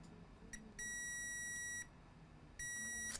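A multimeter in diode mode beeps while probing a diode on an HP Spectre x360 laptop board, giving two sustained electronic tones, each about a second long, plus a few short chirps, faint and alone.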